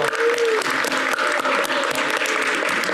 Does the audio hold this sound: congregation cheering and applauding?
yes